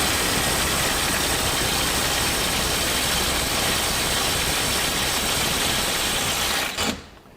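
DeWalt DCF850 Atomic 20V compact impact driver hammering in reverse on a 1.5 amp hour battery against a stuck fastener, a loud continuous rattling clatter held for seconds before cutting off abruptly.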